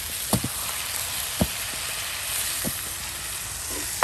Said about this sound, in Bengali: মরিচ পেঁয়াজ তার সাথে রসুন সব কিছু একসাথে তেলে ভেজে নিয়ে আপনার আলু কুচিগুলো দিয়ে দেওয়া হলো